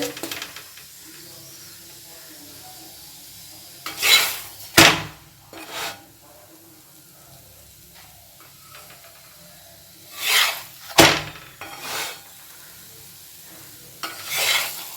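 Cauliflower paratha frying in a pan, a soft continuous sizzle broken by several loud bursts of hissing and scraping as the flatbread is turned and pressed, with quieter frying between.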